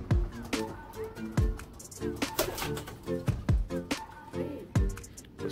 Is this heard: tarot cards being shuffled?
no